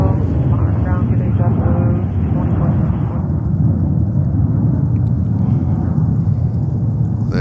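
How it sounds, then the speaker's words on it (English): An El Al Boeing 787 Dreamliner taking off at JFK, a loud low roar of jet engines from a distance, steady throughout with a broad rumbling rush, while a voice talks over it. "we have LL Dreamliner taking off at the moment"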